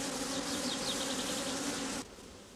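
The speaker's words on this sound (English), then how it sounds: "workers shaken out to make way for the grafts climb back into the hive" Honeybee workers buzzing at a beehive as they climb back in after being shaken out for queen-rearing grafts, a steady close droning hum that drops abruptly to a quieter buzz near the end.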